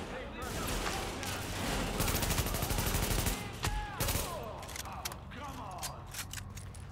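Enemy gunfire in The Division at the Queens Tunnel Camp, bursts of rapid automatic shots and sharp single cracks mixed with mechanical clanks, loud and close, with a voice speaking at times.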